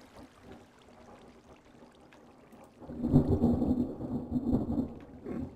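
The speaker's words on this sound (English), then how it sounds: "Thunder outside apparently." Low, rolling thunder swells in about halfway through and keeps rumbling loud and heavy to the end, over a steady wash of rain.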